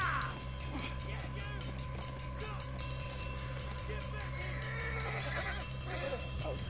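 A horse in Red Dead Redemption 2 whinnies loudly at the start over a steady low engine-like hum and clopping hooves, while voices talk in the background.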